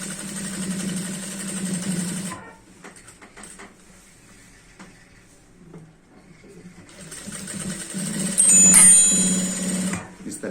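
A sewing machine stitches a pant waistband in two near, loud runs of steady whirring, separated by a quieter pause with soft handling noises, alone without talk.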